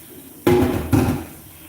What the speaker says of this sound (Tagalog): Kaya 4 bisis ko siyang binaswasan ng tubig para malinis na yung tubig niya.